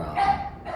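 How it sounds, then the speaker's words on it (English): Pet pug barking indoors in the background, a single short yap heard faintly at a distance. "If you can hear the barking in the background, that is Nigel, our"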